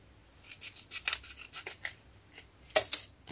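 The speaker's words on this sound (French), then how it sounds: "Hop, je vais couper là." Scissors snipping through paper while shaping a scrapbook embellishment for a pennant or card, a string of short crisp cuts close by, with a louder double snip near the end.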